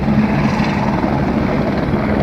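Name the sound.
helicopter taking off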